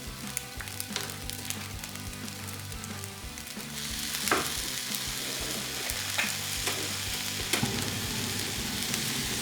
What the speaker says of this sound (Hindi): अब मैं इसमें राइस शामिल करूंगी और आंच को बढ़ा के तेज करके इसको मिक्स करूंगी।